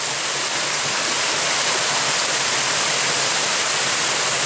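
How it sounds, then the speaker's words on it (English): A waterfall at Callahan Run along the Black Forest Trail pours in a steady, loud, broadband rush, continuous and unbroken with no voices. "there's this pretty awesome waterfall."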